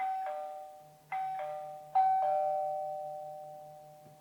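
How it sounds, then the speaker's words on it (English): A TP-Link Tapo doorbell chime rings twice, each two-tone ding-dong ringing out and slowly fading, with a faint rhythmic ticking underneath. "Let me just push the doorbell button here."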